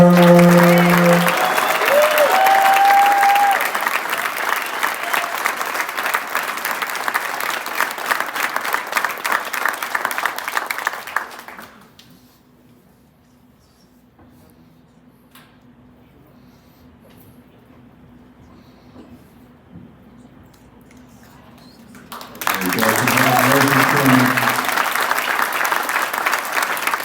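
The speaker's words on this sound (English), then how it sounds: "Everybody, please give a huge round of applause for Cameron Breyer." Indoor audience at a Unified Team signing day for Nashville SC applauding, steady clapping and cheering for about eleven seconds, then a quiet pause with a low hum, before applause resumes near the end.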